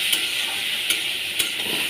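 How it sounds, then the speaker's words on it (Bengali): Chicken pieces fry in a pan with a loud, constant hiss of hot oil, broken by three brief stirring scrapes spaced evenly, close up and without voices. "চিকেন ভাজা হচ্ছে।"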